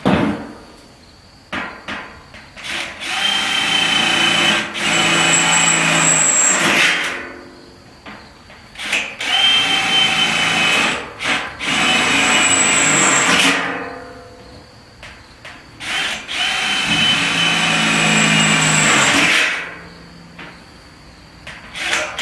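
A drill bores plug-weld holes through a new trunk floor panel for a 1971 Dodge Charger, making three loud, sustained whirring bursts of several seconds each, separated by short quiet gaps and clicks.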